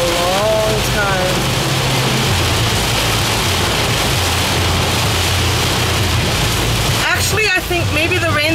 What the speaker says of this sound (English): I haven't seen rain like this in a long time.